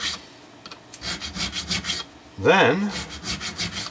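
Abrasive strip of 150 grit rubbed back and forth over Stratocaster guitar frets, giving a steady series of close rasping strokes with a brief louder squeak partway through.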